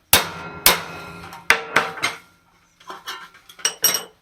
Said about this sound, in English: I'm going to lay a piece of stainless on the top and hit it down with a hammer